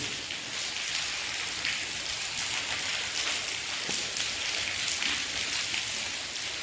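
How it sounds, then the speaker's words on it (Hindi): Steady rain patters continuously through the night, a dense hiss of drops on surfaces with no voices. "रात से पड़पड़ाहट हो रही है खूब"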